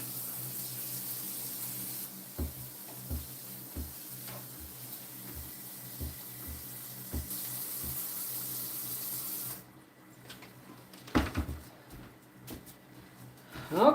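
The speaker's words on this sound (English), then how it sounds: "I'm going to rinse it, and then I'm going to set it on the paper towel to drip" Running tap water streams steadily into a kitchen sink while food is rinsed, with small knocks and handling sounds throughout, before the flow stops and a few clattering clunks follow.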